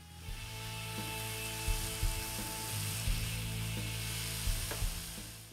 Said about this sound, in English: Stir fry gobo and carrot for a couple of minutes until tender.